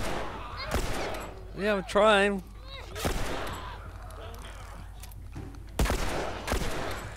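Gunfire in The Last of Us video game, several sharp loud shots spaced a few seconds apart, with someone talking and exclaiming between them.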